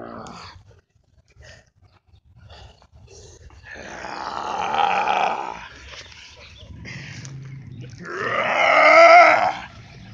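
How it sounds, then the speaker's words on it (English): Wrestlers in a fight let out primal screams and grunts, loud raw bursts close by that rise twice in long strained cries, with quieter gaps between. "Primal screams."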